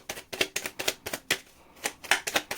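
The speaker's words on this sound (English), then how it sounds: "Last shuffle." A tarot card deck being shuffled, a quick series of crisp riffling snaps and taps in uneven bursts, close and moderately quiet, with no talking.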